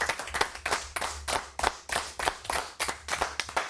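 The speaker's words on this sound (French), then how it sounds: "On applaudit David Lettard." Applause for a performer on a French radio or TV show: a small group claps in irregular bursts at moderate loudness, with sharp transient slaps and no voices.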